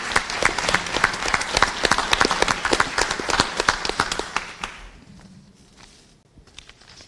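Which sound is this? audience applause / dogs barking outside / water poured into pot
audience applause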